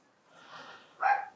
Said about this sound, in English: small dogs inside.